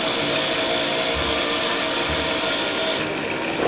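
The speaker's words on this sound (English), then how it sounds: "take a wire wheel, standard bench grinder," A wire wheel spinning on a standard bench grinder, cleaning buildup off a soldering iron tip, gives a steady loud whirring hiss with faint low scraping pulses throughout.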